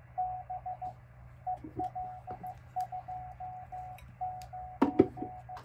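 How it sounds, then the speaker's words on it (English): An HF ham radio receiving a Morse code CW signal: a clear tone keys a continuous, rhythmic run of dots and dashes over steady static, with a couple of crackling bursts near the end and no talking. "anybody that says that CW is dead or Morse code is dead, they haven't been on ham radio recently, because it's always on here"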